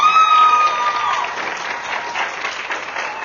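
An audience at a live podcast event in Quintana Roo claps continuously in a muffled, band-limited recording, with a faint tonal whine at the start.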